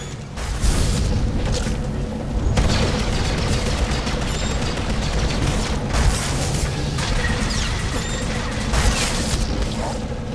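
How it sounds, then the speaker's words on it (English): A research station blowing up in Star Wars: The Old Republic during the Taral V flashpoint, loud rumbling explosions and crashing debris rolling continuously with repeated heavy bursts. "After blowing up this research station, the team is going to move on to the entrance of the Imperial base."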